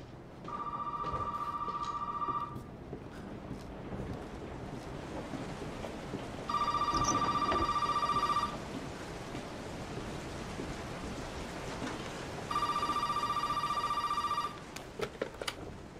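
A telephone in Resident Evil 7 rings in three long electronic bursts with pauses between, heard over steady rain and a dark, rumbling storm ambience, moderately loud, with no talking.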